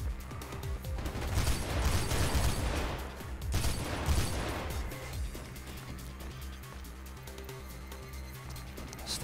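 Rapid bursts of Heckler gunfire in Mirror's Edge crackle loudly in dense volleys for several seconds, then thin out into scattered shots and mechanical clatter.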